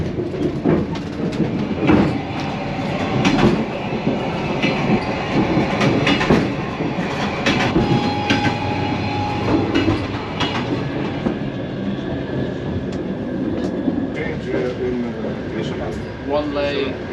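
Sleeper train from Bucharest to Chisinau rolling along, with steady rumble and rhythmic wheel clatter over rail joints throughout, under people talking nearby.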